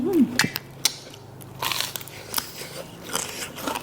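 Sharp, crunchy bites while eating spicy Thai tam sua papaya salad with rice noodles, pickled crab and red sausage: several distinct close crunches spread over a few seconds, with quiet chewing between them.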